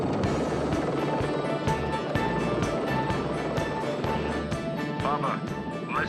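A chopper in a TV action drama keeps up a steady thudding rotor drone with a continuous engine roar beneath it. Voices speak over the noise.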